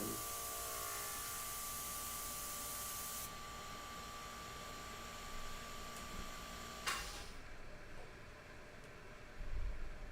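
An airbrush sprays paint in a steady, close, airy hiss that runs several seconds, then drops and shifts. Faint clicks and brief handling noises follow near the end.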